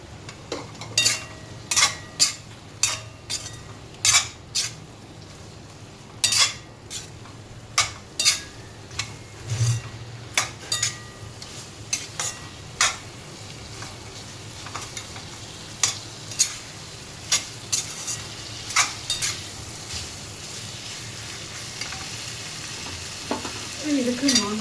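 Cleaned prawns frying in a pan, a constant low sizzle broken by repeated sharp scrapes and clatters of a utensil stirring against the metal in an irregular rhythm.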